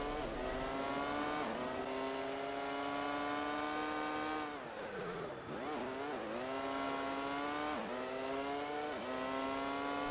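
Formula One 2002 race car on PS2, its high engine whine climbing and dropping through gear changes almost without pause, loud and close, with brief dips where the driver lifts off for corners.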